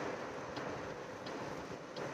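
Rain falling outside during a monsoon shower in Haryana, a faint steady hiss with a few soft drip ticks, heard from indoors with no voices.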